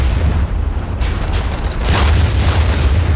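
Artillery shells explode in a World War era war game, a loud, deep rumbling boom with sustained low roar and debris-like crackle, close and heavy throughout.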